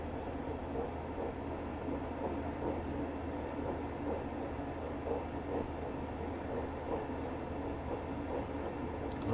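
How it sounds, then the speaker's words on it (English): A Class 142 Pacer train rolling along the rails, with a steady low rumble and a faint repeating clickety-clack of wheels over rail joints heard from inside the carriage, constant throughout. "I love that clickety-clack as well. Well, the Pacers did make that noise a lot"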